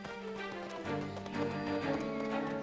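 A horse in the Carpathian Mountains clip-clops its hooves in a close, uneven rhythm beneath a layer of wildlife documentary music, with no voices heard.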